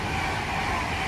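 Class 807 Avanti train 807.009 departing Lichfield Trent Valley toward London Euston, a brief steady rumble and rolling roar with tonal hum, moderately loud and continuous.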